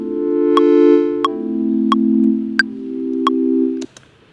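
Low-pass filtered tone with its high end cut, a steady muffled sustained pitch running for about four seconds, with a few brief ticking clicks spaced roughly evenly over it, then stopping abruptly.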